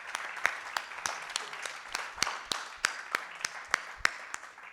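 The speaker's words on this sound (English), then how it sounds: "So I just wanted everyone here to clap for her because she's doing God's work." A conference audience applauds, sharp individual claps spaced in a steady, moderately quiet rhythm with slight room reverberation and no talk over them.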